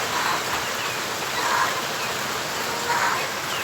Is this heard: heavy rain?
yes